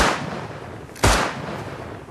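Shotgun fired in the survival video game Rust: one sharp, loud blast about halfway through, decaying quickly over faint background noise, with no talk.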